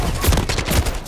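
Call of Duty: Modern Warfare gunfire crackles in a quick burst of two or three close, sharp shots, with no talking.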